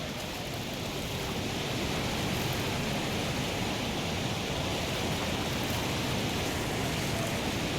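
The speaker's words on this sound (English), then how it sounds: "There's no hidden cave under this waterfall." A waterfall in a video game makes a steady, dense rushing roar that holds at an even level from start to finish, with no voices over it.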